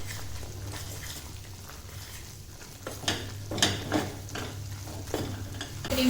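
Flour roasting in hot ghee in a pan for a three-ingredient sweet, with a faint low sizzle and intermittent scraping stirs of a spoon against the pan that grow a little louder toward the end.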